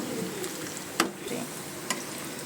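Onions frying in a pan for a prawn curry: a steady, moderately loud sizzle with two sharp clicks of a utensil.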